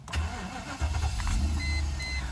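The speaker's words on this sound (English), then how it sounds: "let me just start the vehicle" Mercedes CL500 being started for an air conditioning repair: a short starter crank, then the engine catches and settles into a steady low idle close to the microphone, with a faint beep.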